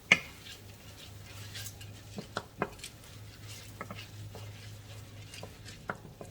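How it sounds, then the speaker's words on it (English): A spoon stirs risotto rice in a pan for arancini, making scattered scrapes and knocks against the pan over a low, steady hum. The close, irregular taps come at a stirring rhythm with no talk. "you just keep stirring it until this liquid is all absorbed"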